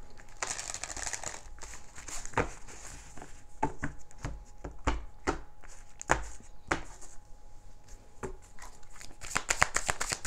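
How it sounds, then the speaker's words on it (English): Tarot cards being shuffled in quick bursts of riffling and crisp slapping, close and clear, with short pauses between rounds. "One more shuffle."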